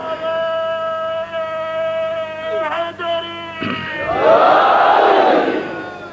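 At a Shia religious majlis, a single voice leads with a long, sustained call, then a large crowd bursts into a loud unified chant of a slogan.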